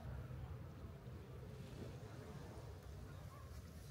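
Waves wash onto a seaside beach at a Polish resort near Gdansk and Sopot, a steady low rumble of surf mixed with wind buffeting the microphone, continuous and moderately distant.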